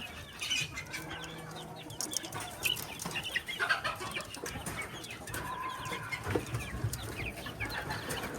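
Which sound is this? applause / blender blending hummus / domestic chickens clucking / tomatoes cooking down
domestic chickens clucking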